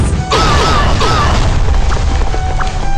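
A fireworks explosion skill from the mobile game Seven Knights bursts with loud, continuous booms and crackling blasts, layered with bright whistling streaks, filling the whole stretch.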